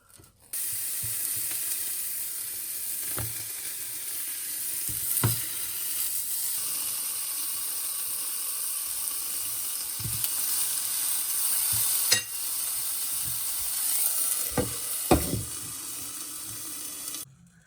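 Eggplant frying in a pan gives a steady, even sizzle and hiss throughout, broken by a few faint clicks and light knocks, with no voices.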